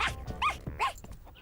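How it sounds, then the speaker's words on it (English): A dog makes short, close whimpering or growling sounds in a couple of quick yelps from an animated episode. "Kiwi happens to be a very sensitive dog."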